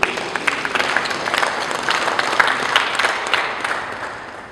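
A church congregation at a funeral service in Paris breaks into sustained applause, a dense, steady patter of many hands that fades toward the end.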